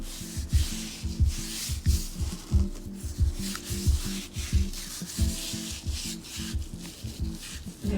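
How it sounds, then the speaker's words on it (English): A foot scrub is rubbed over feet in quick back-and-forth strokes, making a close, rhythmic rasping and scraping sound that repeats steadily without talk. "next step, scrub your feet"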